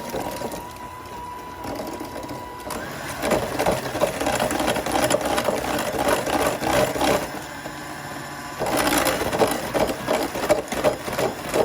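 An electric hand mixer whirs steadily and close through keto peanut butter chocolate chip cheesecake batter, a continuous motor drone that shifts slightly in pitch and load partway through; no voices.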